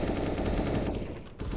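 Rapid automatic gunfire in the video game Counter-Strike: Global Offensive, a dense, loud continuous burst that briefly drops out near the end before resuming.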